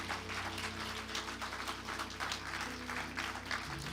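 A church congregation applauds during a Spanish-language sermon, a dense, steady wash of clapping that holds at an even level throughout, with sustained musical tones underneath.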